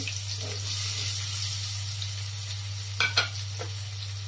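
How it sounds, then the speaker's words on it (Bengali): Spices being sautéed in a pan for an egg and potato curry, a steady low sizzle with a couple of brief scraping stirs near the end, no talking. "এইদিকে আমি মশলাটাকে সুন্দর করে কষিয়ে নিব"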